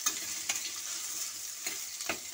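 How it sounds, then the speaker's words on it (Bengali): Potatoes fry in hot oil in a kadai, a soft steady sizzle broken by a few sharp clicks of stirring, close and fairly quiet with no voices. "তেল দিয়ে আমি আলু ভেজে নিচ্ছি।"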